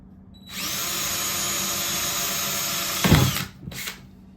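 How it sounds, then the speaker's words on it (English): Power drill with a 1/4-inch bit punching holes in a plastic container for growing mushrooms: one sustained close whirring run lasting a few seconds, then a short second burst. "I'm taking my 1/4-inch drill bit, and I'm gonna be punching a bunch of holes in here"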